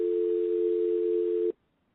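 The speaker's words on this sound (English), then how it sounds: "when you hear this dial tone" A steady telephone dial tone hums loud and unbroken for about one and a half seconds, then cuts off abruptly into near silence.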